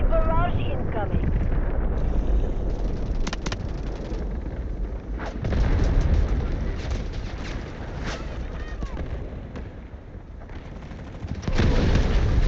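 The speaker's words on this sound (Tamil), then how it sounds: "Artillery barrage incoming." Artillery barrage explosions in the Delta Force video game, trench lines map: a dense, continuous roar of booming blasts and crackling gunfire with sharp impacts scattered throughout, loud and sustained.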